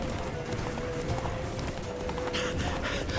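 Roach, Geralt's horse in The Witcher 3 video game, trots with a steady clip-clop of hooves, the galloping rhythm continuous and close under a constant background of game ambience.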